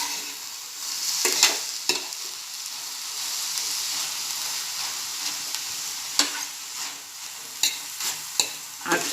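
Methi bhaji with eggs frying on medium heat, a steady hiss of sizzling with scattered scraping strokes of a spatula mixing in the pan, some strokes sharp and close, no talking.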